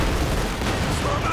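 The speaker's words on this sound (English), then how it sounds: "Mortar rounds going in." Mortar rounds firing in Company of Heroes 2 during a 1v1 battle, a rumbling burst of muffled booms and blasts packed closely together, with a commentator's voice faintly mixed into the battle noise.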